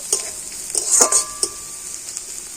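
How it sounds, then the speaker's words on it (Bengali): Chopped green chillies and a spice mixture fry in a pan: a soft sizzle with quick scraping and clinking stir strokes, brief and close. "কাঁচা লঙ্কা এখন ছোটো ছোটো করে কেটে নিয়েছি তো দিয়ে দিলাম আর এখন আমি সমস্ত কিছু একটু ভালো করে ভেজে নেব"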